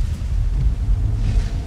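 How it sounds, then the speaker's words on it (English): Deep, loud rumble of lightning thunder in the video game Dying: Reborn, a heavy low roll lasting the whole moment with no voices. "The lightning sounds so loud."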